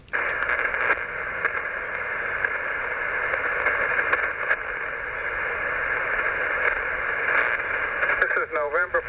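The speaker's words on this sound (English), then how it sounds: "I can hear a station in there, but I got a little QRM in the area" QRM interference on an amateur radio receiver during backyard portable operation: a steady hiss and buzz of static with a dense band of noise, and a brief warbling tone near the end.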